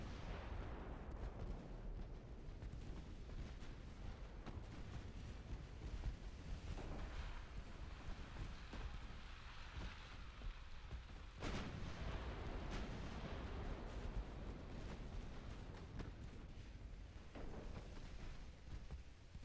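A torpedo detonates in the naval warfare game Ultimate Admiral Dreadnoughts: a rumbling, roaring low blast over a constant wash of sea and wind noise, with a sharp deep boom cutting in partway through, no talking.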